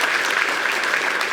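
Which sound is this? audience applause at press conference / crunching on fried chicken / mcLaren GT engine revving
audience applause at press conference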